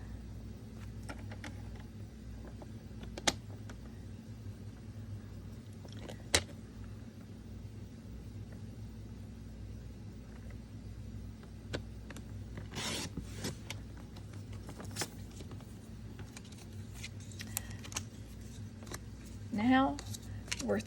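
Paper cutter slicing patterned paper along its track, with soft scraping and rubbing strokes and scattered sharp clicks over a faint low hum, quiet and close, with a burst of brisk rasping near the middle.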